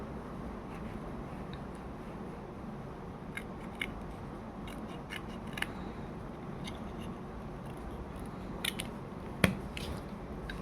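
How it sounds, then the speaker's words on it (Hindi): Scissors trim extra material from a small matchbox craft truck, making a string of faint, close, crisp snips at irregular intervals, the last one sharper, over a quiet room hiss. "इसे भी मैं काट देती हूँ।"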